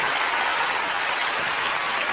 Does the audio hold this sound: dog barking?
no